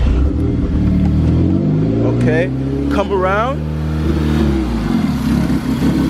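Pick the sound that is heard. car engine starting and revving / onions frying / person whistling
car engine starting and revving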